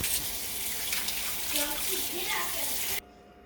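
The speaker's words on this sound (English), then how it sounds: "let me wash my hands" Water from a running tap splashes steadily as hands are washed in a kitchen sink, a close, even gush that cuts off abruptly near the end.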